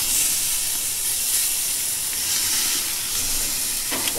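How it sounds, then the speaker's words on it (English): A sous vide tri-tip steak sizzling on a pellet grill, a steady close bright hiss and spitting crackle holding evenly throughout with no talk. "While this is grilling"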